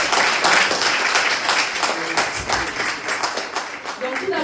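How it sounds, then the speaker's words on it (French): A church congregation applauding together, dense loud clapping that fills the space steadily from start to finish with voices mixed in underneath. "applaudissons le Seigneur pour son amour envers nous"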